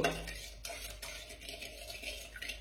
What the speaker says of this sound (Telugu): ఈ పౌడర్ మిక్స్ అయ్యే వరకు ఇలా మిక్స్ చేసేసామనుకోండి